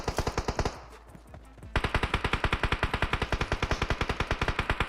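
Rapid automatic gunfire in the mobile battle royale game PUBG Mobile, a loud, close burst of evenly spaced shots, a brief pause, then a longer sustained stream of rapid fire.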